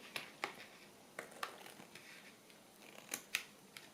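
Several sharp scissor snips, spaced irregularly, close and fairly quiet, with brief pauses between cuts and no talking.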